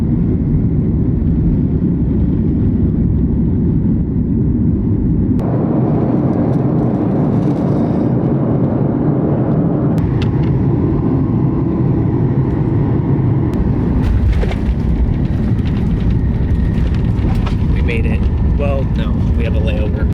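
Airplane cabin noise, a loud, constant engine roar and hum that shifts in level partway through, with scattered clicks and faint talking near the end.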